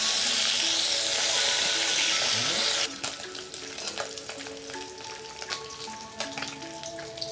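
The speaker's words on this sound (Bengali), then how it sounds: "রাখা মাছগুলো এখন ভেজে নেব। মাছগুলো আমি উল্টিয়ে দিচ্ছি।" Tilapia fish frying in hot oil, a loud steady sizzle that drops to a softer crackle after a few seconds, with scattered spits and pops continuing close up.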